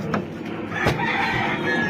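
A chicken gives a few close clucks and squawks over steady outdoor background noise, with no talk.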